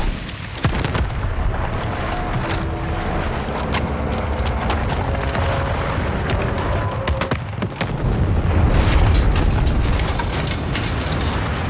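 A fire support strike in the Battlefield 6 campaign pounds the area with continuous heavy booms and blasts, loud and close, the barrage thickening into a rumbling roar near the end.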